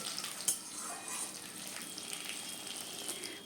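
Tomato and onion frying together with okra in a pan, a continuous soft hissing sizzle with faint stirring and one brief clink near the start.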